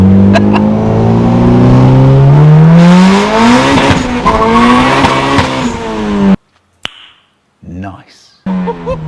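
A big-turbo EM1 accelerates hard in first gear, engine pitch climbing steeply with a loud roar, then cutting off into quieter sounds and a voice.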